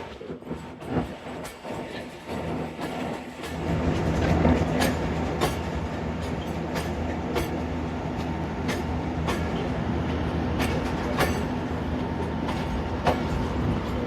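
The Sialkot Express races past through open countryside in the early morning, a loud, close rush of wheels and carriages with a rhythmic clickety-clack that builds and then holds steady.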